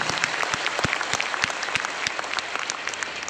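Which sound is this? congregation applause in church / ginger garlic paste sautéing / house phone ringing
congregation applause in church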